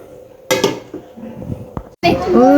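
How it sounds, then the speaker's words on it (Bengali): Metal cooking pots and pans clank and scrape as they are scrubbed in a home kitchen, loud and close in irregular bursts, with a voice talking in between. "এখন আমি দেখেন কতগুলো হাঁড়ি পাতিলগুলো মেজে নিব"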